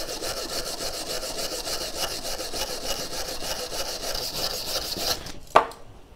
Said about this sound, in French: Il suffit de prendre la targette, de prendre une brosse métallique et de la frotter jusqu'à retirer son oxydation.